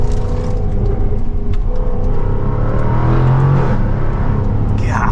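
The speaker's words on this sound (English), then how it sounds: "Gosh, that acceleration is wild though." A 2024 Jaguar F-Type R75 AWD convertible pulls hard, its engine a loud, sustained roar heard from inside the car, with the pitch rising through the run and a brief shift near the end.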